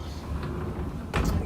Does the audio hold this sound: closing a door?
yes